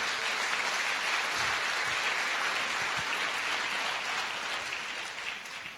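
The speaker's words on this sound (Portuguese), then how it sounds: "Aplauda o Senhor pela vida deles." A church congregation claps loudly and continuously, a thick sustained roar of many hands that fades slightly near the end.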